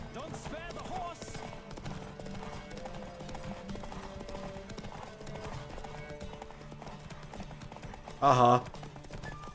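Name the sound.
horse hooves galloping in video game The Witcher 3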